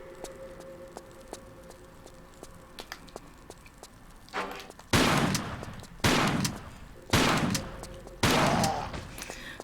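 Four loud, evenly spaced shotgun blasts from the Tomb Raider level editor game ring out one after another, following a quiet stretch with faint ambient ticks.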